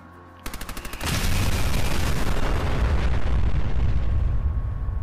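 A gun firing in Fallout 4 starts with a quick string of sharp, rapid shots, then breaks into a sustained, booming roar of heavy fire and blasts that stays loud for several seconds before thinning slightly.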